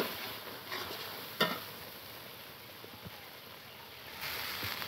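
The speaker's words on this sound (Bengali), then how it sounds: "এবার কিন্তু মাংস চাপিয়ে দিয়েছে। হ্যাঁ রসুন দিয়ে দিল" Meat and garlic fry in a pan as it is stirred, producing a soft, steady sizzle with a scrape or clatter now and then, fairly quiet, with no voices.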